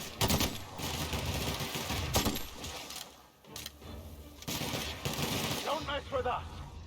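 A heavy gun fires in The Outer Worlds in rapid, loud bursts that pause briefly midway and then resume, with some talk under the shooting.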